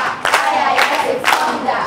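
A group of children cheer and shout for a participant at a kids' club show, a short burst of excited crowd noise.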